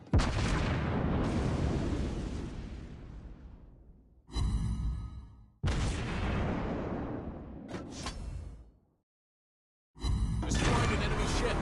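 Naval guns firing and shells striking an enemy ship in World of Warships Blitz, loud booming blasts with long decaying rumbles, several separated by short gaps and one brief silence.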